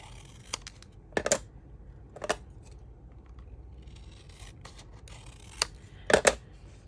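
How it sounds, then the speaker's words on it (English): Scissors cut a notch out of journal paper with a few sharp, close snips, some in quick pairs, spread out between quiet pauses. "I'm going to cut just a notch out of that"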